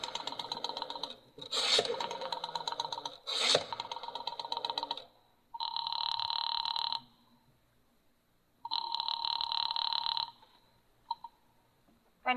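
A telephone being dialed: loud bursts of ringing, buzzing tones in long blocks with pauses between, then a short final beep.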